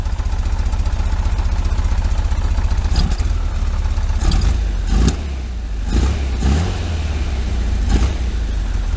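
A 1973 VW Super Beetle engine fitted with a Dellorto FRD 34 carburettor runs loud and close as it warms up, holding a steady low throb with a few brief throttle blips.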